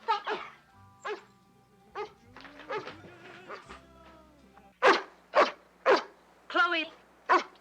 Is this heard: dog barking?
yes